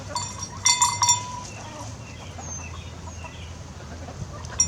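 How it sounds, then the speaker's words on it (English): Chickens cluck and a goat bleats briefly in a farmyard with African pygmy goats about three years old, short close calls early on over quiet outdoor background. "These are African pygmy goats."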